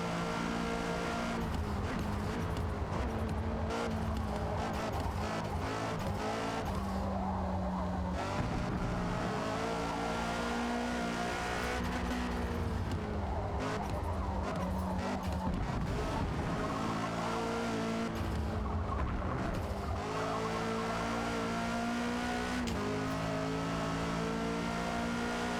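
A race car in an online racing video game roars steadily with its engine revving, and the tires give a sustained squeal as it is pushed hard through corners, loud and close throughout.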